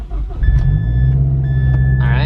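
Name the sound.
Mazdaspeed 6 car engine starting up after intercooler install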